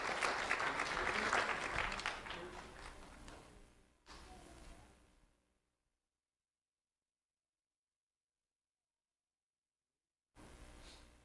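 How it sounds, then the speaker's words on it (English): An audience applauds fourth-grade students at an elementary school recognition event: steady indoor clapping that fades away into silence, then a fresh round of clapping starts up. "Let's have a round of applause for Brooke, Isla Rose, Caitlin, Layla, and Sophia."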